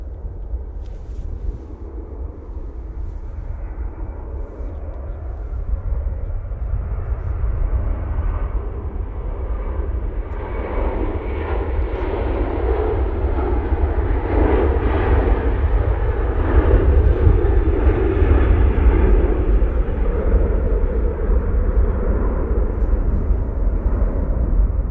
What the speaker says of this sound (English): Aer Lingus A330 now on the roll,